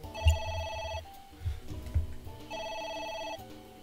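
A telephone rings in bursts, two long electronic trills separated by a pause, fairly close and clear, with a few faint thumps and background noise between the rings and no talking over them.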